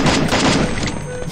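M4A1 rifle fire in Free Fire, a loud rapid burst of closely spaced shots with dense, booming impacts, continuous across a second and a half.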